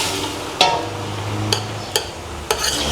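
Mung bean and tomato sauté stirred in a pan after the chicken has cooked, a steady sizzle running under a few sharp scrapes and clinks of the utensil against the pan, close and fairly loud with no talking.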